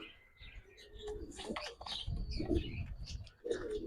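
Giribaz high flyer pigeons, a pair of male and hen, coo softly in short low bursts amid scattered chirps and light rustling, close by and fairly quiet.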